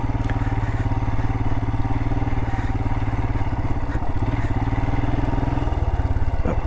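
A small motorcycle grinds steadily in low gear up a rocky canyon jeep trail, its engine droning close and continuous with clattering over stones and a brief change in tone near the end.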